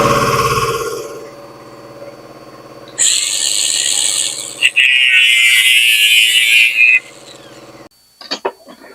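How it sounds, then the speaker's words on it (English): A throttle tube from a Yamaha Bolt motorcycle is cut with a tool, giving a harsh, steady grinding whine for about four seconds. A low hum comes before it and a few sharp clicks follow. "I got to cut the end of this throttle tube."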